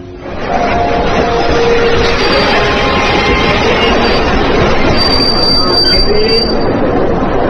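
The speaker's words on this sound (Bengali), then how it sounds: "ট্রেন এলো 10 মিনিট লেটে।" A train pulling into a station, its wheels squealing in sustained high, shrill tones over a loud, continuous rumble of rolling cars that stays close and constant throughout.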